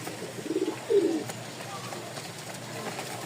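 Pigeons coo at a pigeon farm, two short bursts of soft throaty cooing close by, followed by quieter room noise and faint background sounds.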